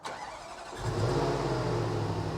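A Range Rover Sport SVR engine cranks briefly, catches and settles into a steady, rumbling idle close by.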